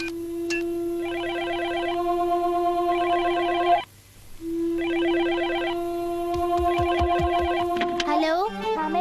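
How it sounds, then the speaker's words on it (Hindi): A telephone in an animated cartoon rings in repeated double bursts, loud and near, with a brief pause between rings. "लो, डेकिसुगी को फोन करो।"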